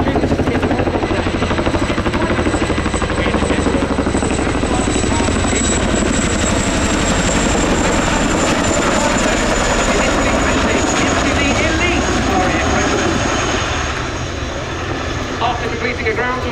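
A Chinook twin-rotor helicopter flies a display at RIAT, with heavy rotor thump and turbine whine loud and near throughout, fading slightly near the end, while a commentator speaks over it.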